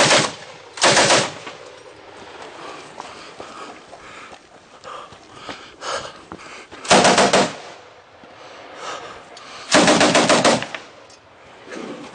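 Several loud bursts of M60 machine gun fire at an IPSC shooting match, each lasting under a second and set apart by stretches of quieter range noise, with the trigger reportedly sticking.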